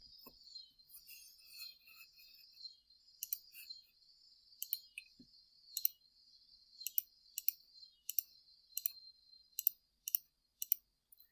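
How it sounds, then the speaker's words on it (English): Calculator keys tapped one after another, a series of light, crisp clicks spaced irregularly, getting quicker and closer together toward the end, faint and close with no talking. "So we'll go ahead and type that into our calculator."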